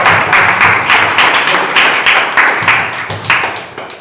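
A crowd claps loudly and steadily at a Chhattisgarhi song launch party, with dense, even applause and no voices.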